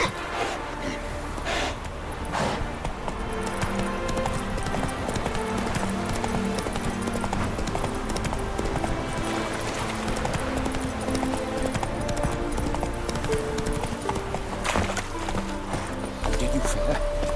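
Geralt's horse Roach gallops in The Witcher 3, hooves pounding in a fast, steady clip-clop under game music and voices, with occasional snorts.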